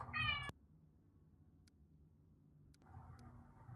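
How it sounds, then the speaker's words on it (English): A domestic cat gives one short meow at the start, then the room falls quiet apart from faint ticks and a soft background hum, heard in the background rather than close. "You can hear my cat in the background."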